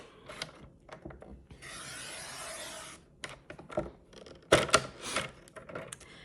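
Paper for a scrapbook layout is trimmed to size with a paper trimmer. A steady, close rasping slide of the blade is followed by clicks and handling noises.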